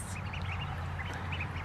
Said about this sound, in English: 12 little ducks.